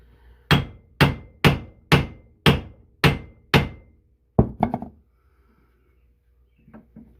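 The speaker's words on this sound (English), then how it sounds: "You take your hammer, your drift." Seven sharp metallic hammer strikes on a drift in a steady rhythm, loud and close, while freeing a tie rod end on an MK3 Supra, followed by a few quicker rattling taps and then quiet.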